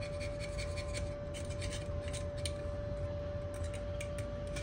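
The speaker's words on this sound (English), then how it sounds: "I don't mind running that wire brush on this cast iron." A wire brush scrubs a cast iron gearbox part in a steady, continuous rasping scrape that holds at an even level throughout, close and unbroken, over a constant background hum.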